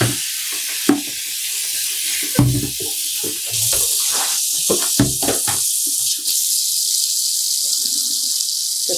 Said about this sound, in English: I'm gonna give it one more rinse.